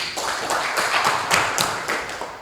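Classroom applause from a group of students, a short burst of brisk, fairly close clapping that fades at the end.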